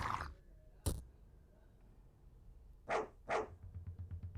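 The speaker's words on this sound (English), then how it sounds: "Jagged Jaw is barking." A hound in the horror game Fear & Hunger barks in short bursts: one bark near the start, then two close together later. A low rhythmic thumping trails behind them. The barks are distant and quiet, with no voices.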